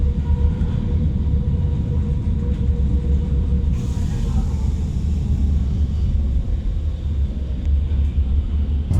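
Brussels metro train in motion, a steady loud rumble of wheels and carriage noise filling the whole stretch with no voices, a brief brighter swell of track noise near the middle.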